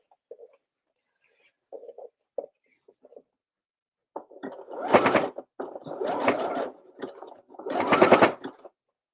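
Sewing machine stitching a twisted strip of fabric scraps in three loud bursts of rapid needle clatter, preceded by a few faint, brief clicks and taps.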